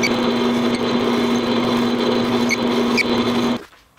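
A drill press runs at a steady high whine, drilling holes in a crayon boat. The motor hum holds evenly for several seconds, close and fairly loud, then cuts off abruptly near the end.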